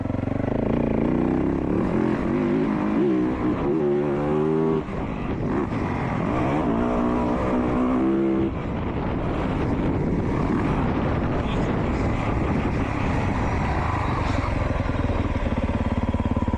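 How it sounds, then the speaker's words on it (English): An all-electric Stark Varg motorcycle is held against its rev limiter, giving a loud, close, rapidly pulsing electric whine that rises and stutters in repeated bursts, mixed with heavy wind buffeting on the microphone. "I will throw you guys on board and let you guys enjoy some rev limiter."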